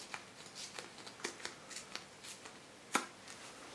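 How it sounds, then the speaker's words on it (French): A signed playing card being torn slowly during a magic trick, heard as a series of soft, crisp paper rips and crackles, close and quiet, with one sharper tear near the end. "Donc voilà les deux signatures, on va déchirer tranquillement."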